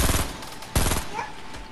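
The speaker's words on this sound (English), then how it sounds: "shooting a launcher at you guys, watch out" Explosive launcher blasts in Fortnite, two heavy booming shots in quick succession with sharp attacks and rumbling tails, loud and close.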